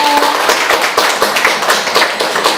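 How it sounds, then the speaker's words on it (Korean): A small audience claps at a children's poetry reading after a poem is recited. The claps are distinct and fairly rhythmic, close by, and continue steadily for a few seconds without speech. "여러분 박수 한번 쳐주세요."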